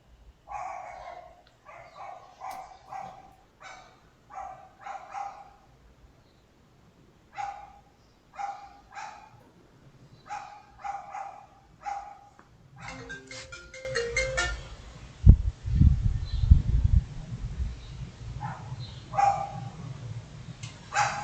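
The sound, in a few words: dog barking in the home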